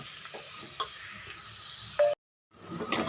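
Salt and turmeric being stirred into a sizzling tempering in a pan, with light scraping and faint tapping over a steady hiss, then a brief silence and a louder burst of clatter and sizzle.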